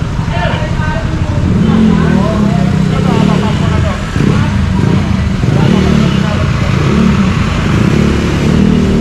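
A motorcycle engine drones loudly and steadily nearby, mixed with car engine noise, while people talk over it throughout.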